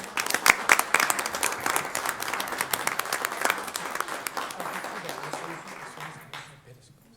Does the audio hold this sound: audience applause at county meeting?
yes